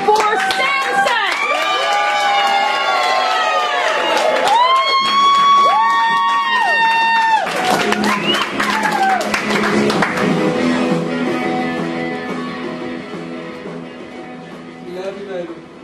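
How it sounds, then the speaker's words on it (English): A poetry slam audience claps, cheers and whoops loudly for a performer, a dense continuous crowd roar with shouting voices that fades gradually toward the end. "I want you to clap as though you were related to this person for Samsack."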